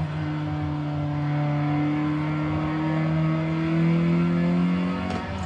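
A car engine in a manual transmission driving simulator game, a loud continuous drone that climbs slowly in pitch as it revs, then drops off briefly at the end.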